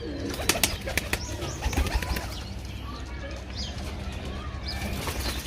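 Pigeons coo in a low, continuous murmur, with scattered sharp clicks and brief wing flutters near the start, over a steady outdoor hum.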